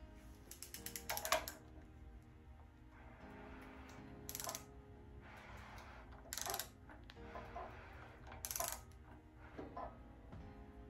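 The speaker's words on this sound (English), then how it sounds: "now we're going to see if we can't turn this crank over, make sure nothing's hidden" The crankshaft of a Mopar small block engine is turned over by hand, with faint, close metallic clicks and ratcheting in intermittent bursts and no talking.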